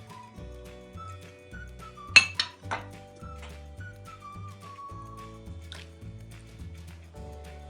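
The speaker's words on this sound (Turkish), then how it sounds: "Maydanozumuzu ve zeytinyağımızı döktükten sonra karıştırma işlemine başlıyoruz" Chicken stuffing with spices, parsley and olive oil is mixed in a bowl for stuffed peppers, with a few sharp clinks of a utensil against the dish over soft background music and quiet scraping.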